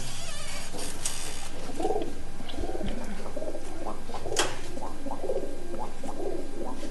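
Soft, repeated cooing of a kala pitho pigeon nearby, rising and falling in low throaty calls over faint background noise.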